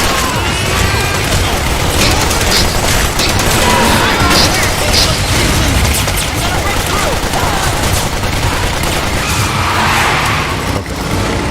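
Dense, loud gunfire in the PS3 stealth action game Metal Gear Solid 4: Guns of the Patriots, with continuous shots and explosive crashes filling the whole stretch amid game noise.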